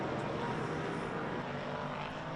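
A camera drone buzzes steadily and fairly close over a race track at a vintage racing event at Watkins Glen, its propeller whine continuous and unbroken.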